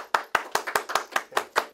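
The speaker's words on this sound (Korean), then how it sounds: "박수!" Nine sharp hand claps in a quick, fairly even rhythm, close and loud, celebrating a concert-anniversary sale event, with no talking over them.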